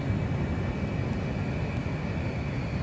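An F-35A jet accelerating down the runway for takeoff in Microsoft Flight Simulator, its engine a steady, loud, unbroken roar that holds constant throughout, with no voices.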